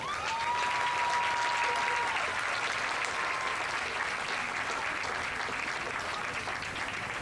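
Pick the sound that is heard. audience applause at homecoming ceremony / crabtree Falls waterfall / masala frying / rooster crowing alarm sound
audience applause at homecoming ceremony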